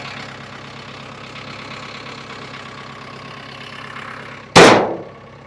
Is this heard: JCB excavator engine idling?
yes